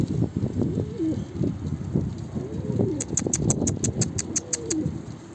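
Low, repeated cooing of a pigeon or dove nearby, joined partway through by a rapid series of high chirps.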